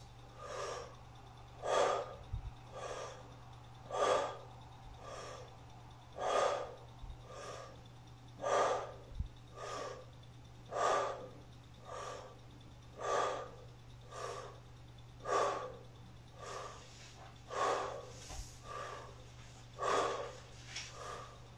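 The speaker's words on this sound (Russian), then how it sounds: "Дышим только через букву О, через рот. И повторяем ХАР и на вдохе, и на выдохе." A person doing a breathing exercise voices a raspy "har" through the open mouth on each inhale and exhale, about two dozen loud breathy bursts in a steady rhythm roughly one second apart, alone over a faint hum.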